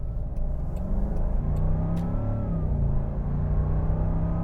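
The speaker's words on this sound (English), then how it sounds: "Most of the noise is coming from the exhaust." A supercharged V8 Land Rover Defender 90 accelerates, its exhaust giving a deep, rising rumbling roar close by that swells steadily, then carries on at a strong drone.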